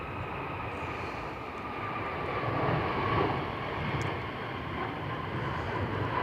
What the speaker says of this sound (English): Two's just blasting off on 2-3 right.